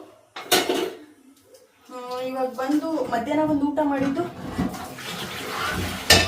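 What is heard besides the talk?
washing dishes, pots and pans in the kitchen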